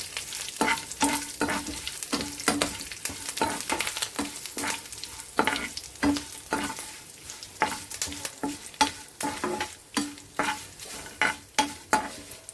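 A tempering sizzles in hot oil while being stirred for horse gram soup, with a constant hiss and a long run of quick metallic scrapes and clinks of a spoon against the pan, close and steady, no talking.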